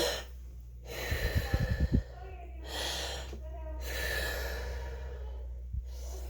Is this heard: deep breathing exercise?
yes